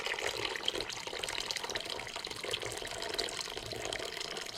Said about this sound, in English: I'm going to try pouring this warm water right in that cup.